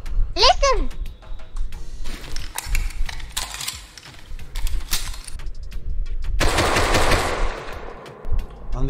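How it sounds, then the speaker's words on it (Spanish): Gunfire in the survival game Rust on a vanilla server's wipe day: rapid bursts of shots crack out through the stretch, mixed with a player talking and bits of in-game clatter. "Han disparado a alguien."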